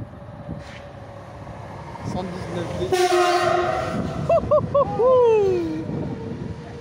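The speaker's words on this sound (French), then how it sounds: "Vas-y, fais-le klaxonner." A French RER D train passes at Maison-Alfort amid a steady rumble of rail noise, its horn sounding several short blasts and then a longer falling tone, with people talking nearby.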